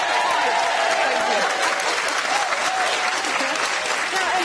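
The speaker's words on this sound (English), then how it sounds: "Don't stop clapping." Studio audience on a daytime chat show applauding steadily for a guest, a dense, continuous wash of clapping with crowd noise and faint voices underneath.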